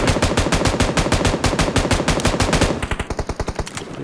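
Automatic weapon fire in the battle royale game PUBG Mobile: a loud, sustained rapid burst of evenly spaced shots that shifts to a slightly thinner, quicker rhythm toward the end.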